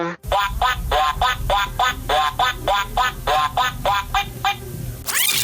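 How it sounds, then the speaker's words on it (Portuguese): A duck in São Paulo quacks loudly and close by, a steady run of about a dozen evenly spaced nasal quacks that ends in a brief burst of noise. "Às vezes tem um pato."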